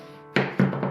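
A knife slicing through peeled butternut squash on a cutting board, three close, firm thunks in quick succession after a brief quiet start.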